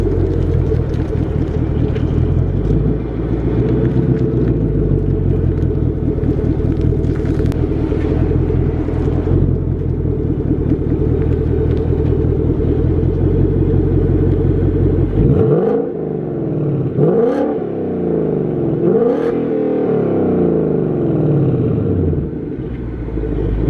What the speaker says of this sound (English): I'm gonna drive, and so y'all can hear how the car sound outside the car.